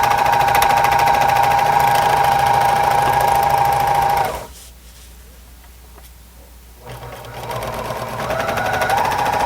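Sewing machine stitching the last corner of a piece, a steady loud mechanical whir that stops for a couple of seconds and then starts again, close by.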